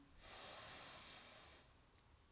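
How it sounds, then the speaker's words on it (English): One long, steady inhale through the nose during a lying-down breathing exercise, soft and close with a faint snort-like catch at the end and no talking. "Breathing in."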